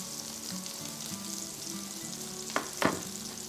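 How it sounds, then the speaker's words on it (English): Pork shoulder browning in a hot pan for sous vide pulled pork gives a steady, close frying sizzle, broken near the end by two sharp clatters as the meat is turned. "we'll continue the process until all the sides have been nicely browned"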